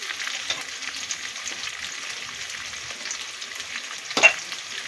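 Chopped onion with salt sizzling and frying in a pan for a Bengali fish curry, a steady crackling hiss broken by occasional stirring scrapes and a louder clatter near the end.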